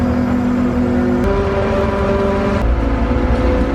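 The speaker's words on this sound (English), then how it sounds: "And I got a truck here with a delivery." A delivery truck arriving at a farm in spring, its engine humming and idling close by with steady tonal whine that shifts pitch twice as it moves, loud and continuous with no voices.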